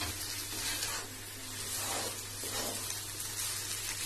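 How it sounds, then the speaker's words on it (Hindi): Vegetables for veg chow mein fry in a pan over a high flame, giving a steady, moderately quiet sizzle that hisses evenly throughout with no talking. "ये देखिए ये अब अच्छा से भुना रहा है"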